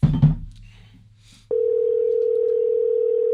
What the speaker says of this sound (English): You better answer that phone.